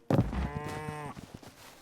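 A single cow's moo from the farming game Hytale rises from a soft thump into a loud, drawn-out bellow, then fades into faint shuffling and light knocks.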